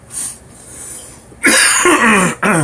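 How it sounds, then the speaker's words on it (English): A gamer with an itchy, dry throat coughs near the microphone, a couple of loud bursts in the second half after a quieter stretch. "That's why you guys keep hearing me cough and see me cough."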